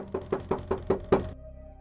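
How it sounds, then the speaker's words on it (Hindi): Six quick, hollow knocks land on a wooden door in an even rhythm, close and distinct. They act as a sound effect in a spoken horror story, and a low hum is left once the knocking stops. "किसी ने हाजी साहब के दरवाजे पर दस्तक दी"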